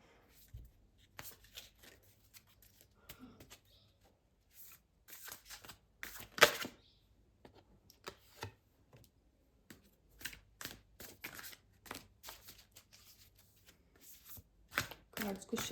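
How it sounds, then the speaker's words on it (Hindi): A deck of oracle cards is shuffled by hand, making repeated soft riffling and flicking bursts with short pauses, some louder snaps, and faint voice in the background. "कार्ड्स को शफल कर लेती हूँ"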